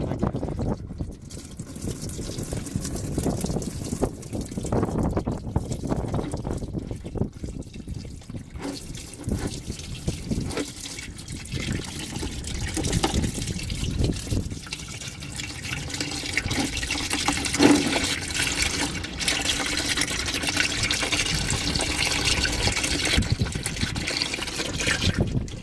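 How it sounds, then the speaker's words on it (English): Engine oil draining from a Nissan Xterra during an oil change, a steady liquid trickle and pour that runs unbroken for the whole stretch with no one speaking. "I let the oil drain all out"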